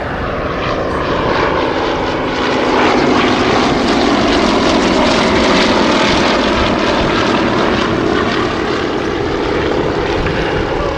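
A Yakovlev Yak-18T propeller aircraft performs aerobatics in a flying display, its loud piston-engine drone and propeller buzz sustained and swelling slightly as it passes, with no talk.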